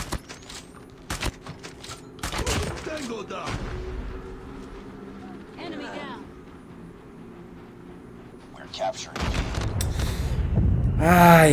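S-36 light machine gun fire in Call of Duty Mobile comes in short, punchy bursts, a few isolated shots early and a heavier sustained volley at the end, mixed with in-game ambience while a voice talks over it.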